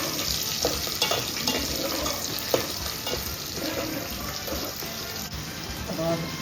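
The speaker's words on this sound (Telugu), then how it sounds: "ఆవాలు, జీలకర్ర వేసాను. అయిన తర్వాత ఉల్లిపాయలు," Onions go into a hot tempering of mustard seeds, cumin and urad dal for an egg and drumstick curry, with steady sizzling and scraping stirs against the pan, at close range and moderately loud.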